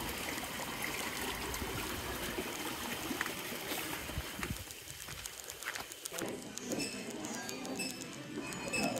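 Water trickles and rushes downhill toward a turbine on a Nicaraguan coffee plantation and ecolodge. A steady outdoor babble is heard up close, with faint background sounds that could be birds.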